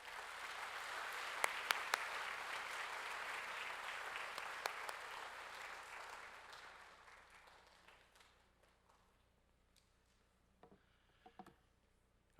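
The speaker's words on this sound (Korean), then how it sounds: "이준성 선교사님 나오실 때 우리 큰 박수로 환영하겠습니다" An audience in a church service applauds to welcome a missionary to the stage, a dense, warm burst of clapping that holds steady for several seconds and then fades to scattered claps and quiet.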